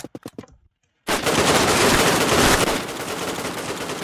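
Rapid automatic gunfire from the online shooter Redmatch 2, a loud sustained burst following a few quick single shots and a brief silence.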